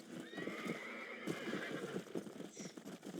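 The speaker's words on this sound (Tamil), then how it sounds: "நம்மளோட குதிரையா?" A horse in the video game Red Dead Redemption, with soft clip-clopping hooves and a drawn-out whinny early on, fairly quiet and heard alone.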